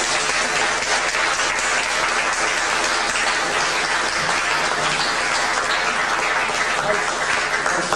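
A veterans award ceremony audience gives a steady, sustained round of applause for an honored veteran, dense and even for the whole stretch, with faint voices blended in.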